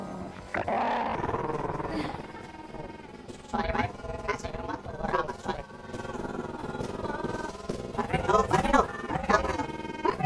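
A dog growls and snarls in intermittent bursts, fairly close, layered over steady background music and sounds throughout the comedic scene.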